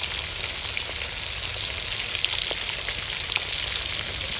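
Rui fish kalia pieces sizzle steadily in hot oil, a dense continuous frying hiss with occasional small pops, close and fairly loud with no voices.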